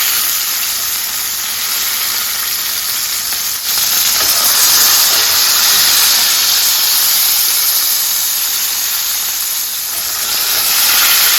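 A steak searing in hot oil after being flipped gives a loud, continuous close-up sizzle with a bright hiss that swells slightly midway, with no talking.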